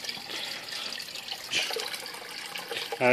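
Steady running water trickles and splashes throughout in a turtle tank, a close, continuous flow like a filter pouring into the tank, with a brief louder splash near the end.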